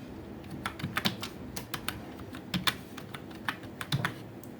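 Computer keyboard typing while entering values in Blender: around a dozen crisp key clicks in uneven bursts, close and fairly quiet, with no one talking.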